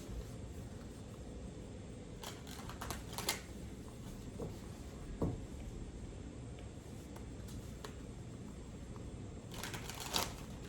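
Tarot cards being shuffled and thrown during a reading, soft papery riffles and flicks in a quiet room, with a few sharper clusters of card snaps standing out from the low background hiss.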